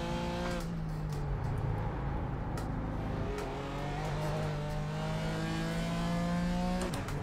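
A damaged BMW M4 race car in the iRacing simulator on the Nordschleife, its engine droning steadily with rising and falling pitch as it revs up through gears, a continuous near, moderately loud roar with brief shifts.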